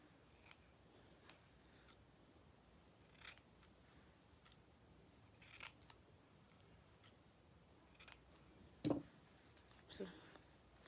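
Scissors snip through fabric while trimming pieces for a ruffle dress, a few faint, sparse cuts under low room noise, with one sharper, louder snip near the end.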